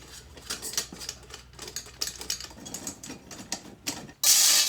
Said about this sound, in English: Just gotta get all these thumb screws out of there